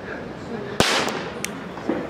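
Children's small firecrackers in Valencia, a sharp crack followed by a second fainter pop, heard at moderate distance over steady outdoor background noise.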